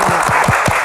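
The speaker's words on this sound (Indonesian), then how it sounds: "Tepuk tangan untuk Pak." A brief burst of enthusiastic applause from an audience at a Q&A session with Indonesia's Minister of Religious Affairs, steady and loud throughout.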